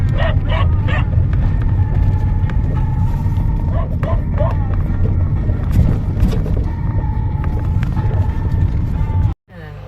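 Several dogs bark repeatedly at a distance in an abandoned village, short yips scattered over a steady low rumble, with some harmonic whining tones; no clear talk.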